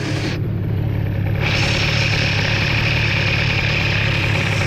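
A Bidalot RF 50 WR engine fitted with a 20 mm carburetor idles steadily and loudly up close while it warms up, its buzzing drone holding constant throughout with no voices.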